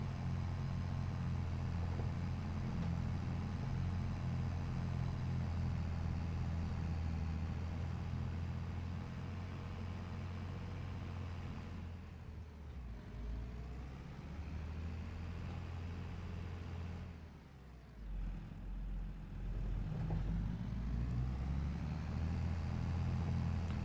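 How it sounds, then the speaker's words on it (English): A Massey Ferguson tractor engine in a farming video game runs smoothly at a steady idle, a low continuous rumble with a brief dip and drop in the middle before it resumes, no voices over it. "I like the sound of this Massey Ferguson. I like it very much. It's a really smooth engine sound."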